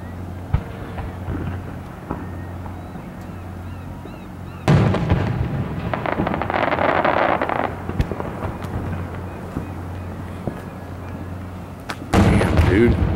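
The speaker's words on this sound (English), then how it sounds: "That's some firework." Fireworks exploding during a 4th of July show in Bellingham, Washington, with a loud broadband burst around the middle and another near the end over steady crowd murmur and voices.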